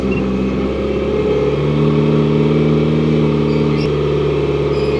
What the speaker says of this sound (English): put it into forward and then run it at about 2000 revs just to get the revs up in the motor